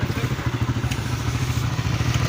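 A motorcycle engine putters nearby in a fast, even, low throb, with a slight rattle and vibration running through it, alone and fairly loud.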